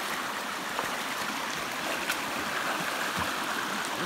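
Water of Bluff Creek rushes and gurgles steadily nearby as it is crossed, a continuous flowing wash with no voices.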